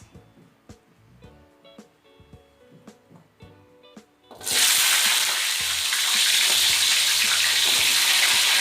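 Shallots dropped into hot oil after garlic: soft clinks and taps, then a sudden loud, steady hiss of frying that continues evenly to the end.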